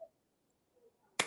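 A single sharp hand clap, or a brief burst of clapping, rings out close and alone at a warm online group gathering, following near silence.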